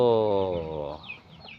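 A chicken gives a drawn-out, harmonic cluck-like call up close, fading into softer scuffling and faint background noise.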